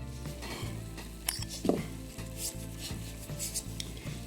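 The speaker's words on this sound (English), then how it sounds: "It's called a pivot file." A very finely cut pivot file working a small tapered pin for a clock movement, giving quiet, steady rhythmic rasping strokes at close range with a few faint metallic clicks.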